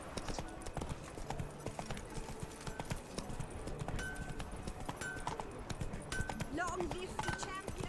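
Horse hooves clip-clopping at a steady gallop in The Witcher 3 video game, under game music, effects and a person talking over it.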